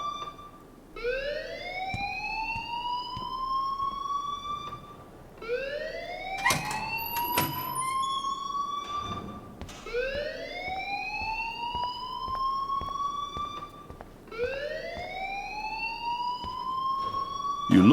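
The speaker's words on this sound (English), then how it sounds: "please turn off that alarm since that's your job." A school alarm in the video game Life is Strange wails in repeated rising sweeps, about four cycles of a loud electronic siren, with brief clatter between sweeps.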